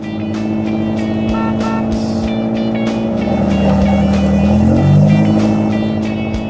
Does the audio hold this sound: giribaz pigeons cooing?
no